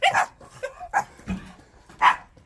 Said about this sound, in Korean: 강아지들도 많고 야 복덩이 집이 어쩐지